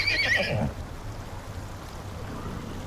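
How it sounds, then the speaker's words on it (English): A horse in the survival game Icarus lets out a short whinny near the start, followed by a steady wash of ambient wind and rain-like noise. "there was a horse trying to take my base out"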